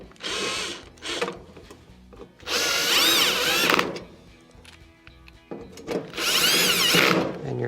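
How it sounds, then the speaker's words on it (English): Power drill driving 1/4 inch screws into a Whirlpool dryer cover after a terminal block repair: three loud, close bursts of whirring motor and ratcheting, separated by quieter gaps, with no talk. "and then install your 1/4 inch screws"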